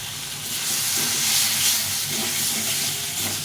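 Boiled potatoes, tomato and spices being sautéed in a hot pan give off a loud, continuous, close hissing sizzle with a faint swell in the middle and no talking.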